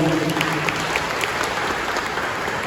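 A church congregation applauds steadily, a dense wash of clapping hands that continues evenly from start to finish.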